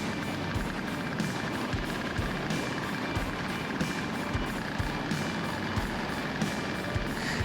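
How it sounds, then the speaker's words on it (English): A microlight aircraft engine drones steadily on final approach to a grass airfield, a continuous close, loud buzzing hum with faint rhythmic pulses throughout and no voices. "I turned onto a final approach and set up for a landing"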